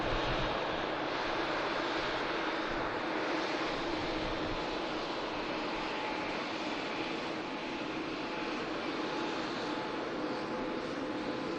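A steady, broad roar of jet engines as an Airbus A380 in special livery taxis at Manchester Airport, continuous and fairly distant, with no talk.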